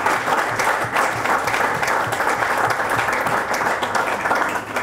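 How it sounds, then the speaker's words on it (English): A big room of banquet guests applauds parents at a quarterback showcase dinner, steady dense clapping from many hands with a faint crowd murmur underneath throughout. "I want you to give your parents a big round of applause for all the support and their help"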